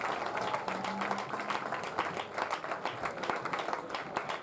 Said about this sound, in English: Let's give Clements a big round of applause